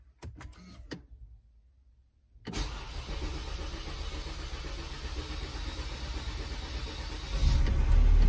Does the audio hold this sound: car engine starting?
yes